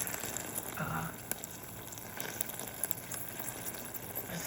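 Steady, fairly quiet sizzling and bubbling of a hot sugary Christmas candy mixture, with faint clicks and a brief murmur of background sound.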